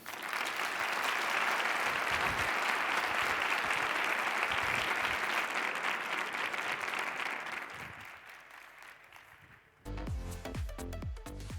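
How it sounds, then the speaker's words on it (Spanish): Sustained audience applause at the T3chFest 2023 tech conference, loud and steady for about eight seconds before fading, followed by a brief burst of clattering handling noise near the end. "vamos a darle un gran aplauso a David Bonilla"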